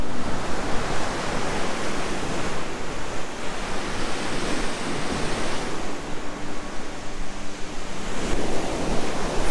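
Ocean waves wash onto an empty beach in Baja California, a loud, continuous roar of surf with swelling breakers and some wind buffeting the microphone.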